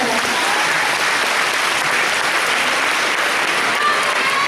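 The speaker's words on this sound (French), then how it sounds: "applaudissez-les, ça va peut-être les encourager" Steady, dense applause from the audience at a manga convention cosplay contest, loud and close, continuous clapping without a break and no voices on top.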